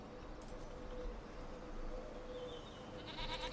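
Goats bleat faintly in Farming Simulator 25, with a few thin calls rising over a soft ambient farm background of breeze and distant birds, nearby but quiet.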